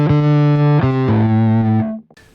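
Bass guitar run through a distortion pedal into a modeler, with no other effects in the chain, plays loud sustained fuzzy notes that change pitch a few times, with a buzzy high end, then stops abruptly and goes quiet.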